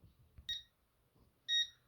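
A Concord 4 home security system keypad chirps twice before arming, two short high electronic beeps about a second apart, close and clear over faint background noise.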